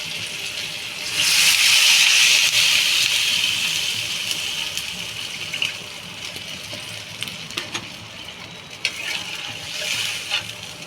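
Water is poured into a pot of Bengali fish curry made with tengra fish and thankuni leaves, a loud rushing pour at first that eases into a softer steady trickle and bubbling, close up with no talk.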